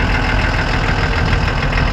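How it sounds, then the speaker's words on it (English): An old resto-mod Dodge truck with a Cummins diesel idles steadily nearby, a dense, even low rumble with a faint knocking texture and no voices. "Sounds like a Cummins diesel."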